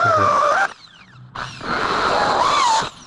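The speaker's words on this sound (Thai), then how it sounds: "เอาสว่านที่ สปีดได้ลดสปีดได้ครับ มาทำการเจาะกันเลยครับ" Variable-speed power drill boring into PVC pipe for a hydroponic lettuce bed, a loud whining burst, a brief drop, then a second longer drilling run close by with no talk.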